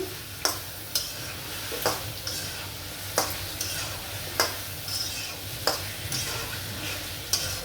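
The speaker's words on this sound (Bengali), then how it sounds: "আমি এটা দিয়ে ভালো করে কষিয়ে নিই।" Boiled papaya fries with spices in a pan for a fish curry, a soft sizzle under regular stirring strokes, each scrape of the spoon sharp and evenly spaced, with no voices.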